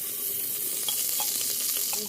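Steady crackling sizzle of ghee in a hot pressure cooker, continuous and close, with small pops scattered throughout and no voices.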